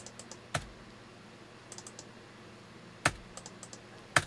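Loud computer mouse clicks ring out one at a time with irregular gaps, three sharp clicks standing out against a faint background of lighter tapping.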